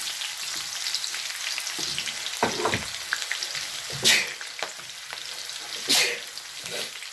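Egusi soup ingredients sizzle in a hot pot over medium heat, a steady broadband frying hiss with occasional louder spits and pops, close and continuous without talk.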